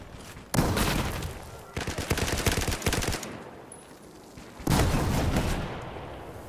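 Heavy heat-based gun fire in the video game Battlefield 4, heard as three loud, dense bursts of rapid shots separated by short pauses, with a faint lingering rumble between them.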